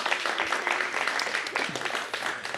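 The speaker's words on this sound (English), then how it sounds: "Give a nice round of applause for Anita" A crowd at a poetry and open-mic event claps for a performer in a brief, lively burst of applause that stays dense and even throughout.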